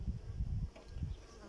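A low, droning buzz of bees, fluctuating in loudness over a couple of seconds.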